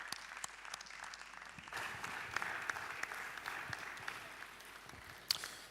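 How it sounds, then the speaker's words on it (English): Faint, distant audience applause at a leadership talk for speaker Taaka Awori, a continuous patter that swells slightly partway through and carries on without speech. "A round of applause for Taaka Awori"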